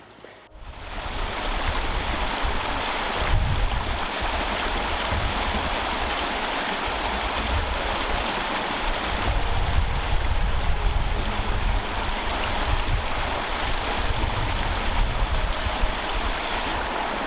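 A mountain stream in Sonfjället rushes steadily and close by, a dense unbroken water roar that holds throughout with no voices.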